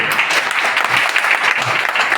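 Audience applause at a Bengali election dialogue meeting of the P-Block homeowners' association, a steady, dense wash of clapping filling the whole stretch without pause or speech.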